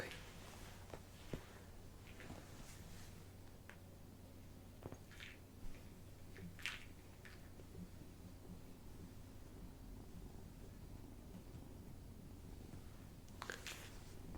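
A close, steady low purring hums continuously, with scattered soft clicks and rustling movements over it.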